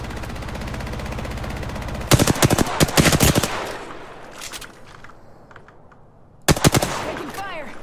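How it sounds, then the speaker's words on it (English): Rapid automatic gunfire in the video game Apex Legends, with loud close bursts of rattling shots in two clusters separated by a quieter stretch of distant shooting and ambient game noise. "Taking fire."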